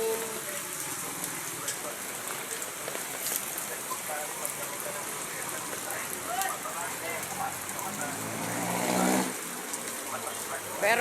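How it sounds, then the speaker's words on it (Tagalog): Steady rain falls during Typhoon Darwin, a dense, even patter on surfaces with scattered drips that holds at a moderate level throughout and swells slightly toward the end. "Ulan naman ng ulan."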